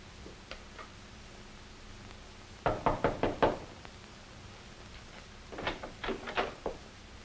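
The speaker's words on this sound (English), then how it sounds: "Go on, knock at that door." Knuckles rap on a door in a 1940s setting, two bursts of about five quick knocks each, fairly close and clear, with a few faint taps before them and no talk over them.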